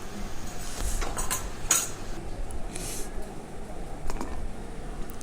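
A spoon stirs cumin powder in a pan, scraping and clinking lightly in an uneven rhythm under a steady background hiss, close and moderately loud, with no talk.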